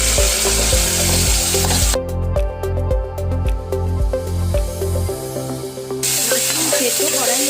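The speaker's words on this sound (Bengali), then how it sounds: "তেল গরম হয়ে গেছে, এখানে আমি প্রথমেই একটু জিরা ফোড়ন দিলাম 1 টেবিল স্পুন।" Cumin seeds and boiled mushrooms sizzle loudly in hot oil in a kadai, a steady dense crackle broken by rhythmic spatula clicks and scrapes as the pan is stirred, with no talking.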